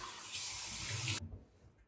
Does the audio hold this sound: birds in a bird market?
no